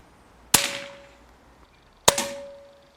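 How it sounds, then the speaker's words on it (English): Two sharp, loud shots from a Hatsan AT44-10 PCP air rifle in .177 calibre, each a crisp crack with a brief ringing tail, spaced about one and a half seconds apart with quiet between them. "I do have some video of firing the gun suppressed compared to unsuppressed, which I'll show you in a second"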